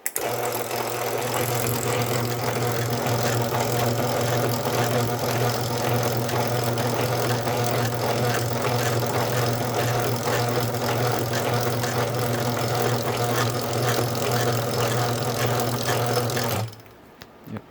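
A LiftMaster MT5011U garage door opener motor runs steadily with a loud, even hum and mechanical whir for about sixteen seconds, then cuts off abruptly, leaving near silence.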